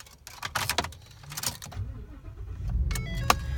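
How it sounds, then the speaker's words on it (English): A 2016 Ford F-350 Super Duty XLT pickup's engine cranks and catches, preceded by cabin clicks and key-like rattles, then settles into a low, steady rumble heard from inside the truck. "I'm just going to start the truck for you."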